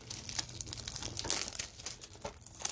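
Thin plastic shrink wrap crinkling and tearing as it is peeled off a DVD case, a steady run of close, dry crackles and rustles with faint background noise.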